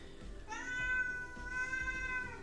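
A pet cat meows indoors, a drawn-out, whining cry close by that rises and holds for about two seconds, with no talking over it.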